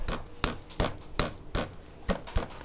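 Hammer blows on a Honda XR50 engine part stuck in place, seven sharp metallic strikes at a steady, roughly even pace, close and loud with ringing between hits.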